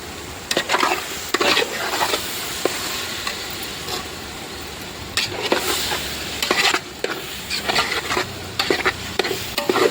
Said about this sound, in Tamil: கொஞ்ச நேரம் வதங்கட்டும் ஃப்ரெண்ட்ஸ்.